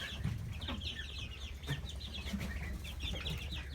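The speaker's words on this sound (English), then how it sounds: "So these are some egg chickens we have." Isa Brown and white Leghorn hens cluck and chatter steadily from close by, with repeated soft calls overlapping against a low background hum.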